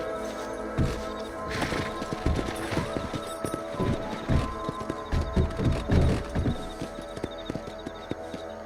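Horse hooves in the video game Red Dead Redemption on Xbox Series give a close, rhythmic clip-clop of repeated hoofbeats over a busy game soundscape.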